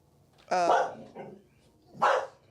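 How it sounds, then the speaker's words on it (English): Neighborhood dogs barking indoors-audible, two loud close barks separated by a softer yelp, brief and alone. "This is what happens when the rogue dogs in the neighborhood bark"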